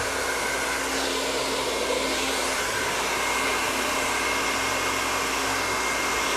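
A hair dryer blows steadily on curly hair, a loud continuous airy roar with a motor hum that holds unbroken throughout, with no voices.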